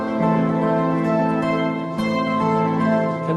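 A NonLinear Labs C15 synthesizer plays a guitar-like voice over a sustained pad, heard at a trade-show demo. Steady held chords change harmony once, loud and continuous, with no speech over them.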